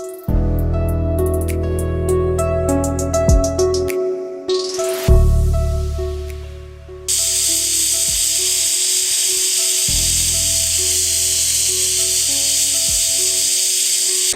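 A stovetop pressure cooker of cowpeas for a Kerala thoran hisses and whistles loudly, with sustained shrill tones and bursts of steam, then a long, steady piercing whistle near the end.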